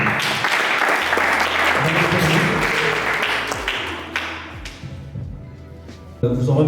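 A conference audience at an international women's event in Lubumbashi applauds a speaker. The clapping is dense and continuous, loud at first and gradually fading, with voices mixed in and a thump near the end.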